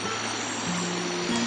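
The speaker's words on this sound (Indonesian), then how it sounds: "Ini saya nyampe di sebuah sungai. Sungainya enggak begitu besar." A small river runs steadily in a rural setting, its broad, even rush of water continuous and fairly close, with a faint low tonal hum underneath and no talk.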